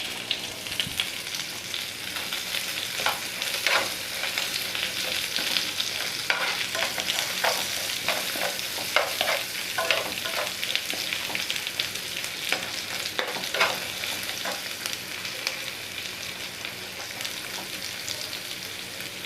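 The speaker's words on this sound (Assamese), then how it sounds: "এইখিনি অকণমান পিঁয়াজখিনি ৰংচোৱা হ'ব লাগিব তেতিয়ালৈকে মই ভাজিম" Sliced onions fry in oil in a pan while being stirred, a continuous close sizzle broken by repeated scraping and clattering of a utensil against the pan, with no talking.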